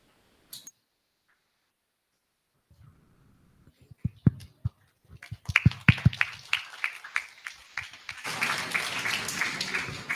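An audience at a fisheries and space technology talk breaks into scattered claps after near silence, with sparse sharp claps building into denser clapping and a final burst of applause, with faint murmuring.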